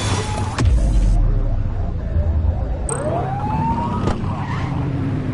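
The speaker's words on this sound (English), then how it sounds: "Get on their tail and flip the siren." A police car siren in a video game, The Precinct, wails in a rising sweep over a steady engine rumble, loud and close, with a short electronic tone cutting in partway through.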